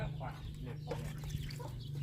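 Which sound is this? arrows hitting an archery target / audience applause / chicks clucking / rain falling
chicks clucking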